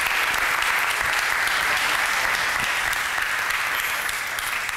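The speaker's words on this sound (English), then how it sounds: "I think we should give Thomas a great round of applause" Sustained, dense audience applause at a marketing conference talk, loud and even throughout with many hands clapping at once and no break.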